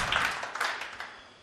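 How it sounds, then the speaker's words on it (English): A brief burst of audience applause at a UK Open darts match, dense clapping that fades out over about a second and a half. "Round of applause there from Paul Hogan as well."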